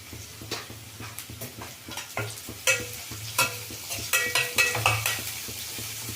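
Onions fry in a pan with a pinch of salt, a spoon scraping and clinking against the metal in quick uneven strokes over a low steady sizzle, growing busier toward the end.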